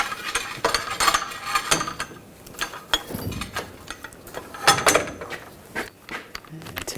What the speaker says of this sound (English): I'm just going to put a pull jack underneath